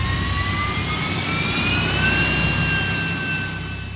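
Jet airliner accelerating down the runway and lifting off, a loud steady engine roar with rising whine that holds throughout and eases slightly at the end.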